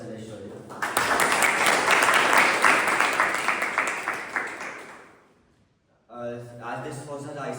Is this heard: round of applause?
yes